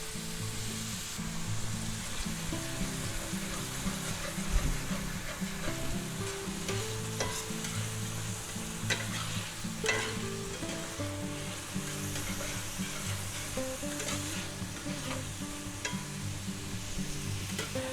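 Minced garlic sizzles in a pan of shrimp fried rice with roasted pork, a soft, continuous frying hiss with scattered clinks of stirring and no talking.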